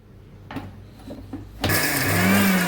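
An electric kitchen mixer grinding garlic, ginger and green chillies starts abruptly after a few faint knocks and clicks, then whirs steadily and loudly with a rising motor whine.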